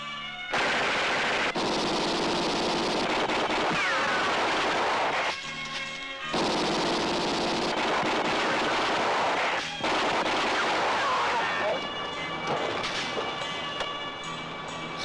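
Heavy, sustained bursts of rapid gunfire roar in long continuous volleys, broken by brief pauses, loud and dense with no voices.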